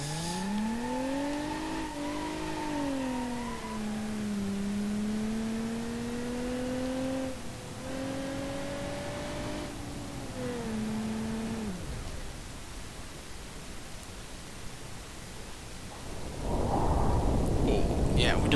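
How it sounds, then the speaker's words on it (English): Crash sounds in BeamNG.drive from a small-overlap crash test, a vehicle's engine droning loudly with shifting pitch, then a sudden loud burst of crunching, broadband impact noise near the end. "is a devastating crash, exposing everybody inside to the outside elements."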